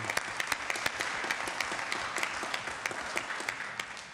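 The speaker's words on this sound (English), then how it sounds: "And one more round of applause for our media team that put that together." Audience clapping at a city council meeting, steady applause with a few sharp, distinct claps standing out near the listener throughout about four seconds.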